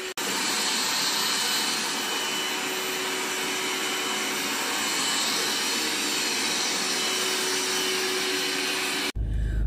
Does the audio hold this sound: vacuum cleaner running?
yes